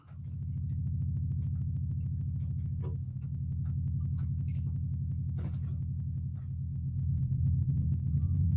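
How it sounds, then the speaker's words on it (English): A low, steady synthesizer drone with the octave adjuster turned all the way down hums continuously, dense and rumbling in the bass, with faint clicks scattered over it and a slight swell at the end. "got ourselves a nice bit of ambient noise."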